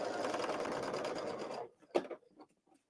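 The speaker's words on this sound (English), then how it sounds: "Normally I don't sew this fast." A sewing machine stitches fabric at fast speed, a loud, steady, rapid mechanical chatter for about a second and a half that then stops, followed by a few soft handling clicks.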